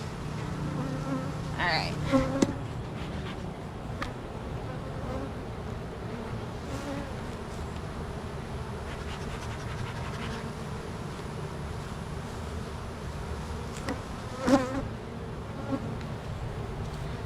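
Honey bees buzz steadily in an open hive, a dense continuous drone with a few louder passes near the listener, and a voice speaks briefly.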